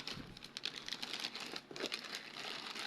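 A parcel is cut open with sharp scissors during an unboxing, giving a steady run of close crinkling and snipping rustles with a few sharper bursts, no voices.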